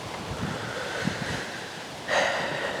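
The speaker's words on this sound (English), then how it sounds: "It's windy this afternoon." Steady windy rushing noise in woods during a whitetail deer hunt, with a gust of louder roaring buffeting in the final second; no voices.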